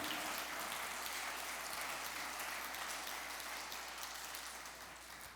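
A church congregation applauds during a sermon, producing a steady, distant wash of many hands clapping together that fades slightly toward the end, with no voices rising above it.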